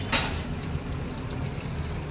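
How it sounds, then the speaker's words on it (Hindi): Water pouring through a pipe into an air cooler, a continuous close splashing trickle, starting with a brief clatter. "यहाँ कूलर में पाइप लगाया है पानी भरने को।"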